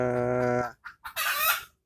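A free-range village chicken clucks and squawks loudly up close, a harmonic call followed by short bursts and a brighter raspy cry.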